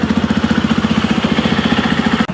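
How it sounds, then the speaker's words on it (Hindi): Jawa 42 motorcycle engine idling close by, a loud, steady, lumpy single-cylinder thump pulsing rhythmically throughout with no talking. "सबसे पहले जावा 42 को स्टार्ट करते हैं।"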